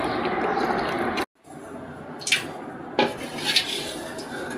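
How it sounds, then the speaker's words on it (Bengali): Mangoes being cut for a sour, spicy and sweet pickle, heard as close knife and utensil clinks and scrapes against a dish under a steady kitchen noise, with one brief silent gap. "এখন আমটা কেটে নিব।"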